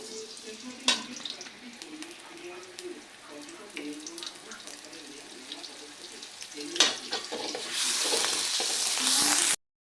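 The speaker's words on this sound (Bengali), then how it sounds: "পেঁয়াজ রসুন হালকা ভেজে নিয়েছি" Onion and garlic paste frying in oil for a red amaranth greens and fish dish, a steady close sizzle with scraping stirs that grows louder and hissier near the end; some voice is faintly present.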